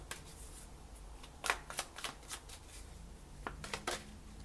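Tarot cards are shuffled by hand in quick riffling bursts, crisp papery flutters and snaps repeating close up with no talk.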